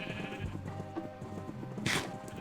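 Minecraft sheep bleat in a game, a couple of short synthetic baa calls close by over quiet background game music.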